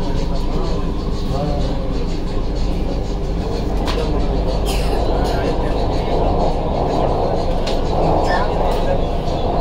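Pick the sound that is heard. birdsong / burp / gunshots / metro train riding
metro train riding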